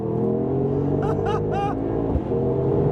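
A 2024 Mercedes-AMG GT 63 Coupe engine drones steadily from inside the cabin while driving, its low harmonic hum rising briefly with a few short whining sweeps before settling again.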